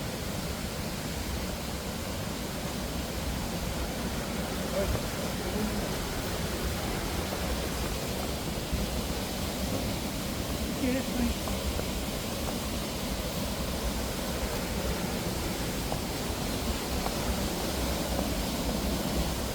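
Broad steady roar of a waterfall at Ullswater in the Lake District, heard from close by at the top of the falls, a dense unbroken rush of water with no voices.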